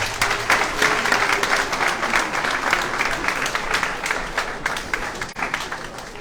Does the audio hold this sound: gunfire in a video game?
no